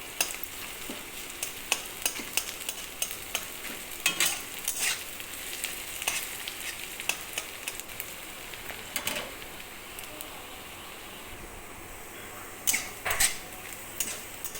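Chopped onions frying in a pan while egg curry is made, a soft continuous sizzle under repeated sharp scrapes and clinks of a spoon stirring against the pan.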